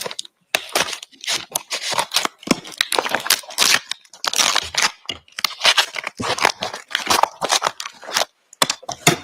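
Rapid, irregular snipping and crinkling close by, like scissors slicing through a plastic bag, in dense bursts with short pauses.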